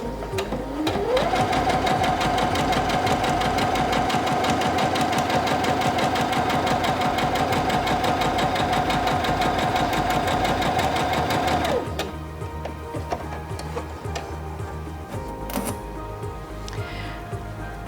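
A Singer Featherweight C240 sewing machine stitches fabric under foot-pedal control, humming at a fast, even pace for about twelve seconds before dropping to a quieter idle hum.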